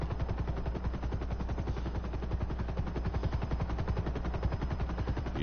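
Rapid automatic gunfire in a video game island heist, shooting out security cameras at a pier; a dense, steady stream of shots fills the whole stretch with no talking.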